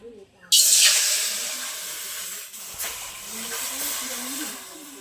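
Water heating in a wok for boiling chalta (elephant apple) gives a loud, steady hiss that bursts in abruptly, eases slightly, then swells again, with faint low murmurs beneath.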